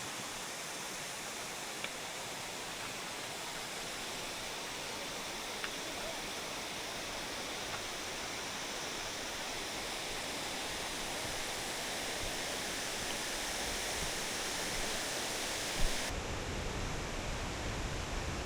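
A river in Nepal flowing steadily, a broad continuous rush of water at moderate distance, even and unbroken with no voices.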